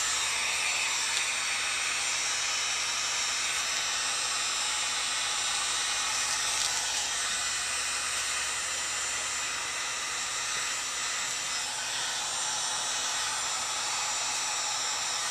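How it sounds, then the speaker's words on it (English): Heat gun blowing on garbage bag plastic for a scarecrow head, a steady, continuous high-pitched airy hiss with a faint motor hum, close and alone without talk. "I'm going to heat gun it"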